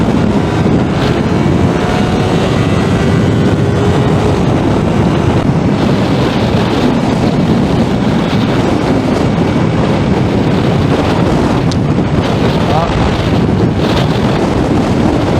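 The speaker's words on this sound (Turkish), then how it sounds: "sence de biraz hızlı değil mi bu rüzgar?" Strong wind roars continuously and loudly while riding a motorcycle, buffeting the microphone with heavy rumbling gusts throughout.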